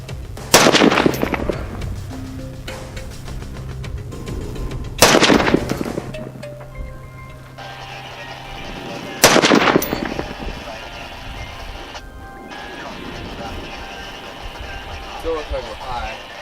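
Three rifle shots fired at a range while zeroing, loud sharp cracks spaced several seconds apart, each with a short echoing tail over a steady low background hum.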